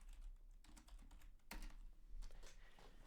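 Rapid clicking keystrokes on a computer keyboard while entering a search in Discord, quiet and close, with irregular bursts of taps and short pauses.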